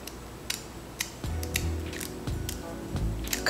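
Several sharp snips of scissors cutting wig lace, with faint clicks and light handling noise close by.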